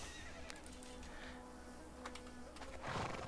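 A horse in Conan Exiles lets out a faint whinny against a busy game backdrop of hooves and ambient noise, with a louder neigh rising near the end.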